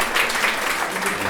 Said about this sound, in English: I wanted to thank you once again and to give you a round of applause for your presentation.